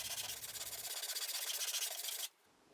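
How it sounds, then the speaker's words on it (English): Sanding block rubbed back and forth along the edges of a plywood panel, a rapid rhythmic rasping scrub close up, continuous for about two seconds before stopping abruptly. "we'll just use our sanding block again to smooth off any splinters around the edges"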